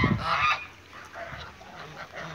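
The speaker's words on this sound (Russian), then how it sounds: "Ну, гусь. Прям гусь-гусь." A goose honks nearby, a few loud nasal calls at the start followed by softer, quieter honks trailing off.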